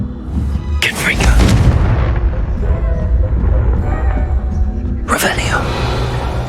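Confringo blasting spell in the game Hogwarts Legacy: two sharp booming blasts with rumbling tails, loud and close, the first near the start and the second near the end, over a continuous low game rumble.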